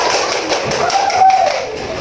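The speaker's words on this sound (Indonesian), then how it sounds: "beri tepuk tangan untuk kita semua" A classroom audience applauds together, a steady, dense patter of many hands clapping that holds evenly for the whole stretch.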